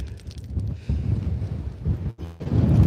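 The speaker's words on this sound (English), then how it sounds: "Apologies if it's a bit windy, folks." Low rumbling wind buffeting the microphone outdoors on a dog walk in Scotland, gusting unevenly and swelling louder toward the end, with no one speaking.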